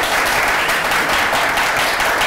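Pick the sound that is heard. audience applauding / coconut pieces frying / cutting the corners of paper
audience applauding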